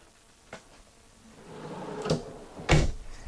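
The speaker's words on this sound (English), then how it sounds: "under each of these benches is a pull-out drawer. And here, I'll just open one of these here." A pull-out storage drawer under a bench in a wheelchair-accessible RV slides open, heard as a few soft knocks and a low rumbling slide ending in a sharper thump, close by in a quiet room.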